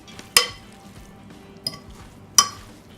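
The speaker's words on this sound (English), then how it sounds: "Alright, I'm going to stir it up and see what we got." Pineapple and mango coleslaw with vinaigrette being stirred in a bowl, giving three sharp clinks of a utensil against the dish with soft mixing between them, close and clear.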